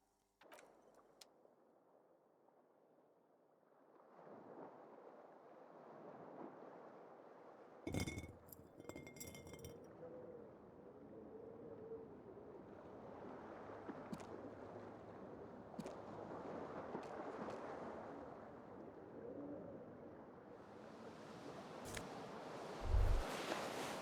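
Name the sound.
keys clinking on a keyring in video game Disco Elysium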